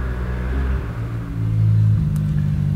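Engine rumble and revving from an off-road motocross motorcycle in the background, a steady low drone that swells louder midway, with no voices present.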